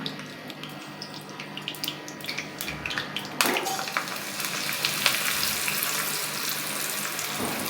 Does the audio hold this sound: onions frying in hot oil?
yes